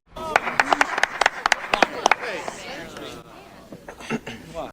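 A quick run of about a dozen sharp hand claps rings out close by in an uneven rhythm. Voices and chatter follow and take over, with a few faint claps scattered near the end.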